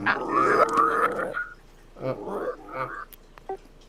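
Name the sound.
person imitating a frog croak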